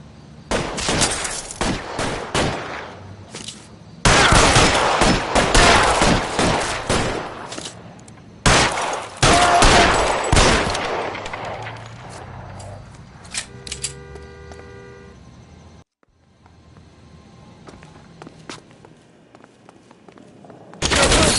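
Gunfight in L.A. Noire with heavy bursts of loud, close gunfire in several long volleys separated by short pauses, then quieter mechanical clatter before a final burst.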